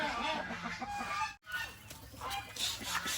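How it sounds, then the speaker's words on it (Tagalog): Chickens cluck and squawk steadily at close range, several birds overlapping, with a brief dropout partway through. "Ayan yung mga manok."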